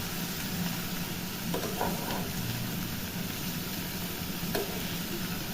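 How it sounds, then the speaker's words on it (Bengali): Cauliflower stems and mixed vegetables stirred in a dry pan with no water, a continuous soft sizzle with occasional spatula scrapes and clinks, steady and close, without speech. "সমস্ত সবজিগুলো ভালো করে মিশিয়ে নেব। দেখুন, আমি কিন্তু জল ব্যবহার করছি না।"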